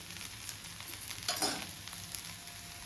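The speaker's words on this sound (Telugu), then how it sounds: "కొంచెం ఆయిల్ వేస్తున్నాను" Oil sizzles steadily in a hot pan for pesarattu, a close, hissing fry that swells briefly in the middle, then settles back to an even crackle.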